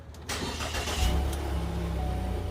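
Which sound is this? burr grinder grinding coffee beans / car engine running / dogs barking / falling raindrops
car engine running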